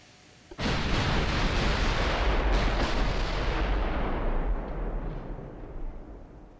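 Naval artillery fire in Ultimate Admiral: Dreadnoughts, a sudden loud boom breaking into a long, dense rumbling roar of heavy gunfire that slowly fades.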